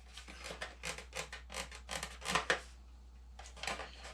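A fingernail rubs and scratches matte varnish off a motorcycle part, a faint, close series of short rasping strokes in quick rhythm, with a brief pause before the scratching resumes.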